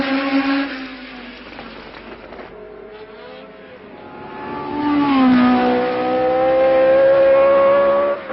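A Ferrari Formula One car driven by Ignazio Giunti at the 1970 French Grand Prix roars loudly, its engine note holding steady, dipping, then climbing in pitch as it accelerates close by. No one speaks.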